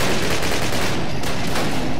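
Dense, continuous gunfire from a Call of Duty PC game battle near a flak cannon on London Bridge, a loud unbroken roar of rapid shots and blasts filling the whole stretch with no voices.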